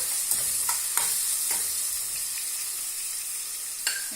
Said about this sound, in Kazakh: Міне пиязымыз қуырылды.